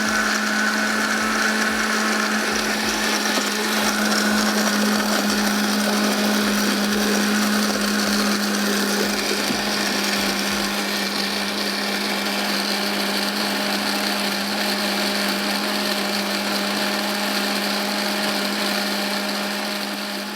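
A kitchen blender whirs continuously while blending chutney with a little water, a loud steady motor drone with a churning wash of liquid running the whole time.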